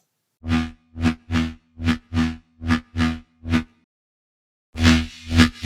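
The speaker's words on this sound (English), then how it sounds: "Let me show you the post-processing of this sound, and clean it sounds like this." Clean dubstep wobble bass synth made in Serum, loud rhythmic pulses repeating about eight times, a pause, then a few more bursts, played alone with no voices.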